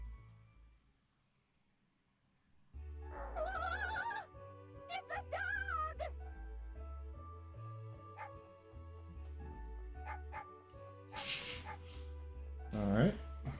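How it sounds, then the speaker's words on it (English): A cartoonish dog barks and yips at the player in the Nintendo 64 game MegaMan 64, set against game music; several bursts sound close and fairly loud, with a character's voice talking over part of it. "It's a dog!"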